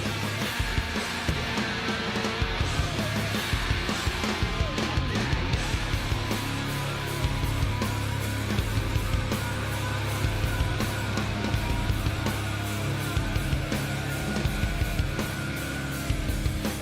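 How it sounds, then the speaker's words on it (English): A song plays loud and continuous, with dense, grungy, distorted metal guitars churning under heavy drums from start to finish. "Dude, the tones on these guitars."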